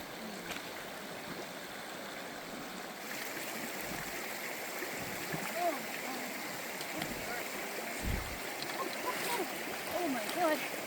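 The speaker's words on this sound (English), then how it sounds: "we approached one of the 2 creek crossings on this trail" A mountain creek at a trail crossing in Wilmore Wilderness Park, Alberta, rushes in a steady broadband wash, with splashes and faint voices mixed in near the end.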